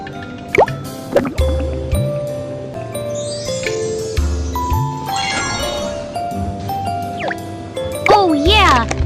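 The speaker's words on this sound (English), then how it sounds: "Now pour them into the mold." Cartoonish dripping and plopping effects play as batter is poured into a mold in the Baby Panda's Cafe cooking game, repeated short liquid blips over bright background music.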